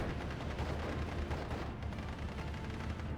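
In a World War II strategy game, dense, continuous gunfire and heavy thumping 81mm mortar blasts blend into a loud, unbroken roar of battle with no clear gaps.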